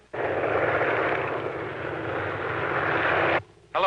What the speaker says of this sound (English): Calling plane number 1, Elmer Lane